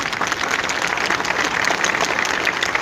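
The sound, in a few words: applause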